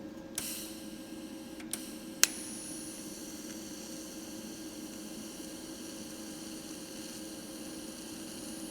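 A TIG welder from a budget PUWU unit strikes its high frequency arc start: a couple of sharp ticks and a crisp crackle near the start, then a steady buzzing hum and hiss carrying on with no talk.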